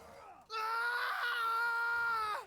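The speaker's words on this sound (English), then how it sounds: "A scream. A man's, I think." A man lets out a single loud, sustained scream in Thronebreaker: The Witcher Tales, rising sharply and holding for about two seconds before cutting off, preceded by a brief quieter voice.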